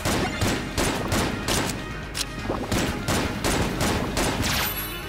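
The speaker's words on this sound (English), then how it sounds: "Oh, he's firing milk bottles." In the video game Exit the Gungeon, an enemy fires milk bottles in a fast string of loud, punchy shots, a dozen or so evenly spaced bursts with no voices over them.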